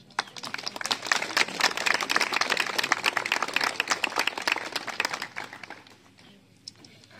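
A crowd at a May 8 commemoration ceremony breaks into dense, sustained applause for about five seconds, loud and close, before it thins out and fades to quiet.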